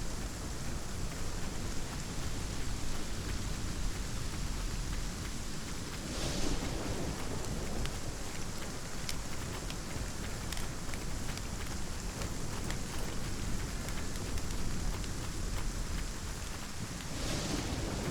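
Steady rain pouring in the survival video game ASKA, a dense continuous hiss with a faint low rumble that may be distant thunder, even and loud throughout with no talk.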